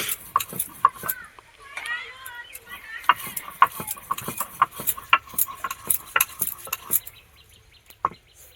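Repeated sharp clinks and taps of a stone grinding spices for a jujube pickle, irregular and close, with a voice speaking over parts of it.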